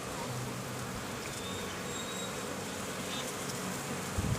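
Honeybees buzzing around an open beehive during a frame inspection, a dense, steady, close drone with individual bees whining past, and no speech over it.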